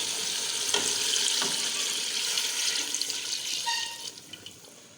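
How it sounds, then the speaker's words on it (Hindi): Water pours steadily into a cooking pot on a home stove, a bright continuous splashing rush that thins out and ends in a few drips. "अब इसमें पानी डाल दूँगी।"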